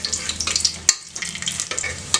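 Cashews and raisins fry in ghee with a steady close sizzle and crackle, broken by the scrape of stirring, with no talk over it.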